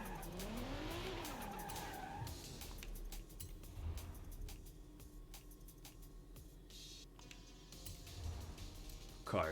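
Tires squeal and skid in Forza Horizon 5 as a game car slides through turns, with long wavering screeches over a low engine drone, fading out and returning near the end; keyboard taps sound faintly in between.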